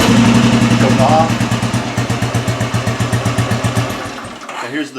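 A 2004 Royal Enfield single-cylinder motorcycle fitted with a short exhaust runs close by, its rapid, even thumping pulses loud and steady, settling briefly before the engine cuts and fades.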